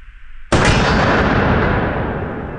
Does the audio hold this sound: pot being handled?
no